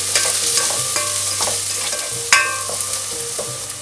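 Garlic fries on medium heat in a pan with a steady close sizzle, punctuated by repeated light clinks and scrapes of a utensil stirring, one sharper knock near the middle.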